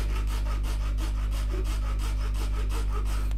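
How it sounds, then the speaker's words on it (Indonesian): Rapid, rhythmic rasping strokes of a hand saw biting through plastic, close and continuous, with no talking. "Kita coba gergaji lagi sampai dia terputus."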